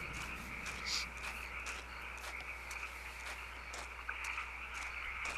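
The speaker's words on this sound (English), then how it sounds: "With the frogs and stuff in the background." Frogs croak in a quiet night ambience among decorative graves in Kentucky Route Zero, the croaks faint and intermittent over a low steady hum, with scattered clicks and insect-like chirps.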